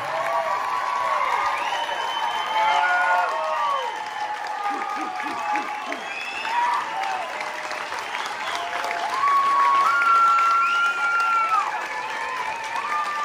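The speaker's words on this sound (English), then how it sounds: "Give a round of applause to Pastor Bud." An audience at a church-related gathering gives a sustained round of applause with some cheering, a dense steady crowd clapping that runs throughout while voices speak over it.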